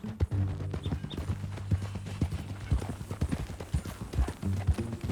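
Steady clip-clop of horse hooves in Red Dead Redemption 2 in an uneven trotting rhythm, fairly close, with a brief snort or whinny and low background tones.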